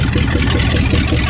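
A loud, rough 1967 Dodge Dart engine with open headers idles steadily with a deep, throbbing low rumble, close by and continuous, with no talking.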